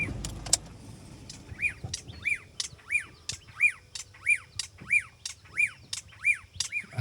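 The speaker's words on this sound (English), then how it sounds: "Probably about 2 meters to my right here is a black-backed puffback calling its heart out." A black-backed puffback calls close by in a coastal forest in Zululand, South Africa, repeating a sharp clicking whistle about every half second in a steady series. There is faint forest ambience behind it.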